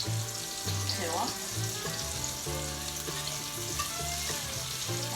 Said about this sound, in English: Onions are cooking. They're starting to brown just a little bit on the edges.